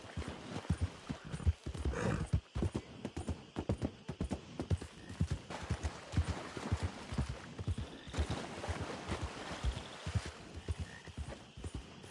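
Horse hooves clip-clop in Red Dead Redemption 2, a quick, uneven run of hoofbeats that carries on throughout, with occasional snorts and a brief whinny-like sound and frog croaks in the background.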